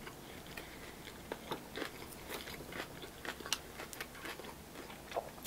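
Close, faint crunching and biting of a crunchy sushi roll being chewed, irregular crackly bites and mastication with no talking.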